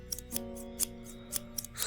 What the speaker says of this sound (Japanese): 白い男はそれきりでしきりとハサミを鳴らしていた。